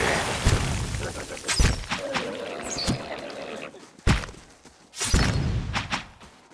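Ice blights shattering in a video game: a few loud crunching, breaking impacts spaced over several seconds, with whooshing effects and quieter thuds between them.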